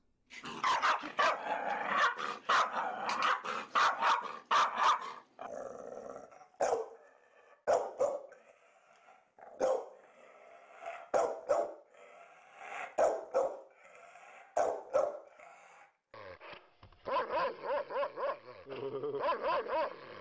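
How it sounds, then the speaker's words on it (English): Three different dogs barking in turn: a dense burst of rapid barks, then spaced single woofs and growls, ending with a higher, busier run of barking. "3 different dog barks from 3 different dogs"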